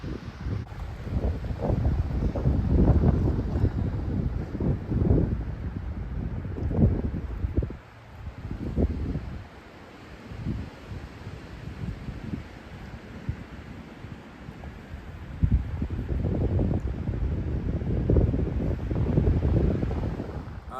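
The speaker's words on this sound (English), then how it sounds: "It's pretty windy today." Gusts of strong wind roar and buffet on a mountain top, loud and close with heavy low rumbling, easing briefly in the middle before surging again.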